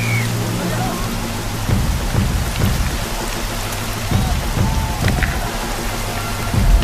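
Steady rain pours down on an outdoor hockey field during an Olympic match between India and Britain, a dense hiss with pattering drops and low rumbles of thunder throughout.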